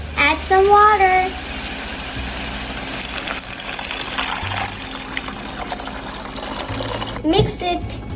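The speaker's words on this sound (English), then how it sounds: "Add some water." Water pours steadily into a pot of vegetable corn soup with a continuous gushing trickle, and a voice speaks briefly at the start and again near the end.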